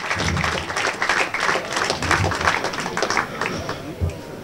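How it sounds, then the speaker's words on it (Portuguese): A room of people clapping in a lively, uneven round of applause, with some crowd noise mixed in. "Uma salva de palmas para ele."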